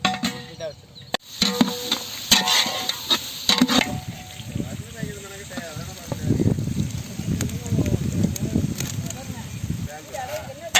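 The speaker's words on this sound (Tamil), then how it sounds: "வெங்காயம் சேர்த்து நல்லா வதக்கிக்கிட்டு இருக்கோம்" Two kilograms of onions sautéing in oil in a big batch of Kadaknath black chicken biryani cooked village style, with steady sizzling and scraping stirs beneath someone talking.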